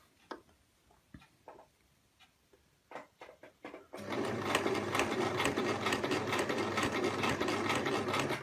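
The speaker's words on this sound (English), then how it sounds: "I'll need to be feeding it through at the same speed as I am actually sewing" Sewing machine fitted with a piping foot stitching fabric, starting after a few scattered clicks and taps and then running as a steady, close, rhythmic mechanical whir through to the end.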